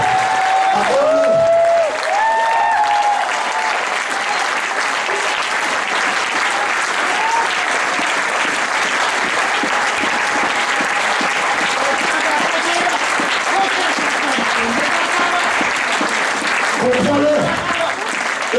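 A church congregation applauding loudly and continuously, dense sustained clapping from a large crowd with a few raised voices mixed in.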